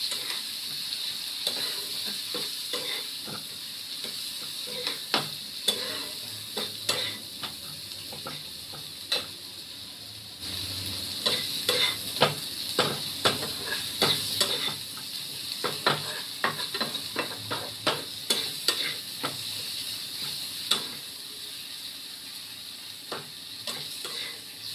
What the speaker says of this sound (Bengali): এবারে আমি এটাকে নাড়বো ভালো করে একটু কষিয়ে নেব